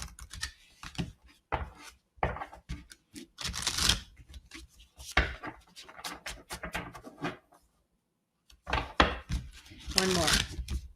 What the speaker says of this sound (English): Let me just give it a couple of really bad shuffles.